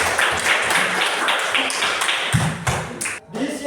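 A classroom of students clapping together, a steady spread of hand claps lasting a few seconds with light voices mixed in, ending in a brief pause.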